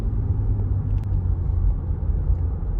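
A 2018 Lexus RX350 with its 3.5 liter V6 cruising on the road, a smooth, low, steady engine and road rumble with no talking.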